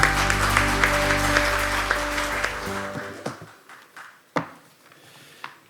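Audience applause in a large hall at a science and technology gathering, loud and sustained at first, then fading out after about three seconds, leaving a few scattered claps and thumps.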